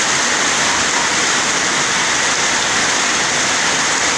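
Heavy rain pours down in Ntinda, Kampala, a loud, steady, dense hiss of falling water that stays unbroken throughout, with no voices.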